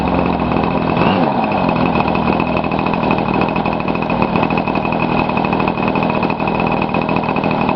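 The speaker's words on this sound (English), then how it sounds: "But that thing will sit there and idle like that all day." A Como 40 RC model engine idling steadily, a loud, buzzing, high-pitched drone that holds an even rhythm throughout, close up, with no talking.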